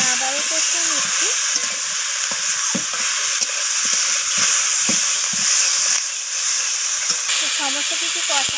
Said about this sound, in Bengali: তো ধনিয়া পাতাটা দিয়ে আমি আবারও কষিয়ে নিচ্ছি।